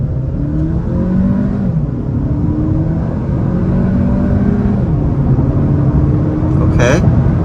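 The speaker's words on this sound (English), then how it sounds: "We'll do a slow rolling start on the gas." A 2023 Audi A3 in dynamic mode accelerates on the gas from a slow rolling start, a steady engine and road drone with rising tonal sweeps running the whole time, heard from inside the car.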